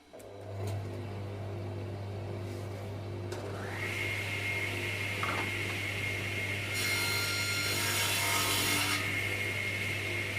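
A test cut into wood for the rebate of a Langstroth honey bee box, a power tool humming steadily before the blade bites in with a loud, sustained rasping cut that grows harsher near the end, close up with no voices.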